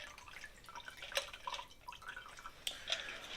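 A Manhattan made with rye and bourbon is strained from a stirred mixing glass, giving a faint, quiet trickle with soft drips and light clinks spread over a few seconds.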